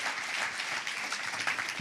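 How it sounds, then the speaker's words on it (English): Audience applause after a fireside chat with Dr. Chance Glenn at an Innovation Collective event, a steady, dense wash of clapping from a room of people holding evenly for about two seconds. "Can we all give him a big round of applause?"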